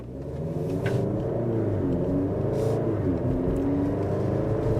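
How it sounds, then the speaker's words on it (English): A 2023 Maserati Grecale Modena in sport mode with a ZF 8-speed automatic accelerates. Its engine holds a steady, close, full rumble inside the cabin, with a slight rise in pitch and no voices. "Now in sport mode, with the ZF 8-speed automatic, the gear shifts are so crisp and smooth, but also it has a nice quick acceleration."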